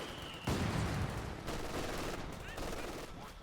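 Soldiers, Conscripts among them, fire during a 4v4 Company of Heroes 2 match on the Port of Hamburg map, with dense bursts of rifle and gunfire in a busy battle mix and a loud report about halfway in.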